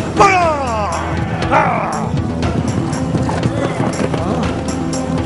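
Horse hooves clip-clop steadily in an animated Farsi story, a close, even trotting rhythm running under loud voices talking over it.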